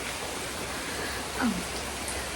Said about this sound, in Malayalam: നല്ല മഴയാണ് ഞാൻ മഴ എങ്ങനെയുണ്ടെന്ന് കാണിച്ചു തരാം നിങ്ങൾക്ക്